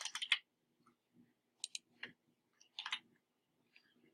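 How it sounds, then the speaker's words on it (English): Computer mouse clicking at a desk, several sharp, quiet clicks in pairs and small clusters spread over a few seconds, with a faint hum between them. "And then I can double click again."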